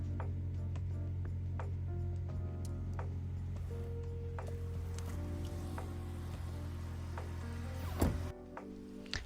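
A SAAB 9-5 2.3T petrol engine idles steadily with a low, even hum and faint rhythmic ticking, ending with a brief clunk near the close.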